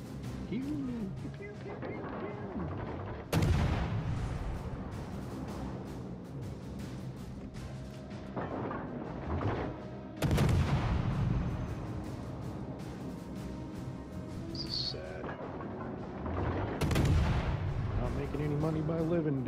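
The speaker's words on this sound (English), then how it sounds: "Running away from my little teeny destroyer guns." Heavy destroyer gun salvos boom in the naval game World of Warships: Legends, several loud blasts spaced a few seconds apart over a steady low rumble of engine and sea noise.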